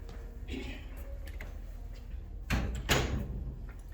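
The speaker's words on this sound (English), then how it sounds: "I'm going to shut the door" An indoor door is shut with a soft thump and latch click in a quiet room, preceded by faint handling noises and light rustling.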